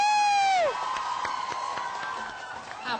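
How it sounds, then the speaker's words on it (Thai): A concert crowd at a show cheers and whoops, with a rising shout fading into scattered clapping and excited voices, loud and lively throughout. "ปรบมือ"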